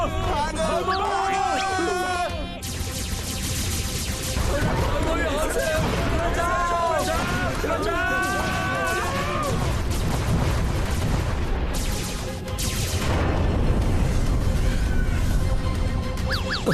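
Cartoon spaceship attack with loud, continuous gunfire and blasts filling the scene, layered with music-like tones and sound effects, while voices talk over the barrage throughout.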